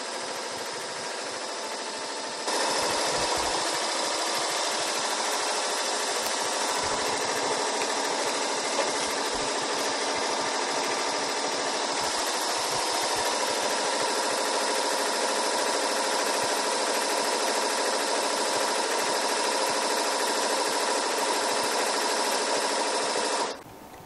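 An embroidery machine runs at roughly 800 to 850 stitches per minute, stitching a coat of arms design. It gives a steady, loud, fast mechanical whir and rattle that starts after a brief pause and continues unbroken without talk.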